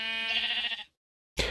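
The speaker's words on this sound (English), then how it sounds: "Oh, Mr. Sheep." A Minecraft sheep gives a single short, buzzy bleat during survival-mode animal breeding. It sounds clean and game-like, followed by a moment of silence and then the start of another sound.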